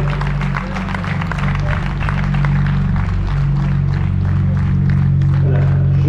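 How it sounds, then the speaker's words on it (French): Crowd applauding the six drivers in the Feed Racing final with Jacques Villeneuve and Patrick Lemarie, a loud, continuous spread of clapping over a steady low engine-like drone that runs throughout. "on peut applaudir évidemment tous les pilotes, les 6 pilotes dans le finale"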